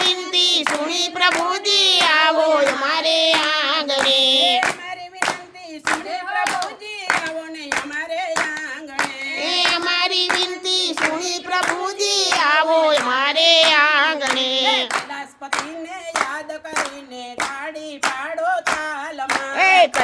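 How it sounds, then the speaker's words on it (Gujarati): Steady rhythmic hand clapping keeps time through a devotional kirtan for Lord Shiva at a Mahadev temple, sharp claps landing on every beat beneath continuous group singing. "શંભુને યાદ કરીને તાળી પાડો તાલમાં"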